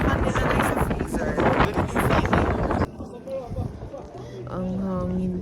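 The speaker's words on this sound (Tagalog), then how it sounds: "Ang hangin talaga guys." Loud wind roars and buffets the microphone for several seconds on a cold mountain summit near Sapa, Vietnam, then eases as voices talk nearby against a gusty background.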